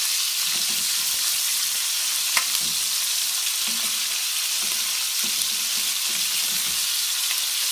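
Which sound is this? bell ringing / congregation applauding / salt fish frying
salt fish frying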